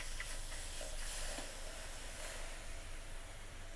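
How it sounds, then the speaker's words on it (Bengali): Steady hiss and steam-like sizzle from spilled rice water, oil or milk on a Gazi gas stove with three burners lit, continuous and fairly loud with no talk. "দেখেন যদি ভাতের মার তেল কিবা দুধ পরে চুলাতে কি অবস্থা হয়"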